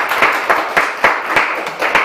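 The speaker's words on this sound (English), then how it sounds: "A little round of applause," Rhythmic clapping from a small audience after a talk at Watershed, loud and close, with regular synchronized beats about four per second rather than scattered applause.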